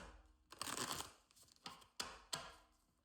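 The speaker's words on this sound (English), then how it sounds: "let's do one more shuffle here" Tarot cards are shuffled by hand in a series of quick riffling, papery bursts, close and fairly quiet, with no talking.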